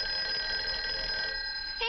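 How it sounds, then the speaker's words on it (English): A telephone bell rings steadily and continuously, a bright sustained electronic trill filling the whole moment before cutting off at the end. "Hey, that's your phone, Uncle Bill."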